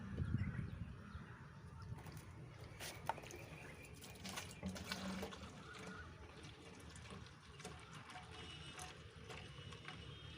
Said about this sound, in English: I'll fill water in this can.